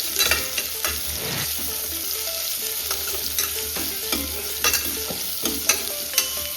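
Thinly sliced onion sizzles steadily in a hot pan for mushroom donne biryani, with frequent scraping and clinking as it is stirred; no voices.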